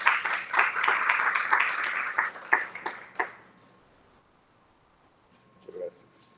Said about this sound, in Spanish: recibamos con un fuerte aplauso al señor Rafael Enciso